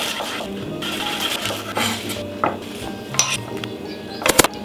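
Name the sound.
knife slicing an onion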